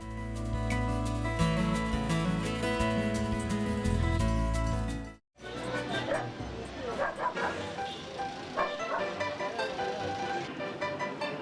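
A dog barks and yips repeatedly in a lively, busy setting, heard under steady narration and background sound.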